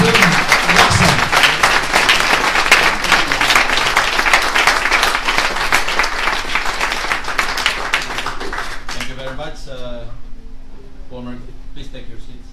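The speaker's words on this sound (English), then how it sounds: "Give honor to our guest of honor and speaker by giving him a big round of applause." Sustained round of applause from a Rotary Club audience in Makati for a guest speaker, dense clapping that fades out after about nine seconds, followed by someone speaking over a faint hum.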